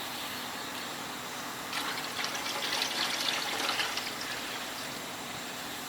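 Motor oil poured into a Toyota 7M oil pan makes a soft, steady trickle that swells for a couple of seconds in the middle, faint against a quiet garage background with no talk.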